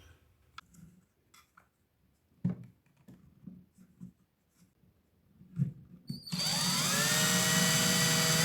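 An electric drill bores screw holes in a homemade battery-powered sprayer build, starting after scattered handling clicks and taps with a loud, sustained whine that holds steady close up.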